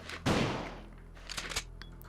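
A single loud shotgun blast booms in Resident Evil 2 inside the police station, followed by a decaying tail and a couple of softer clanks and thuds.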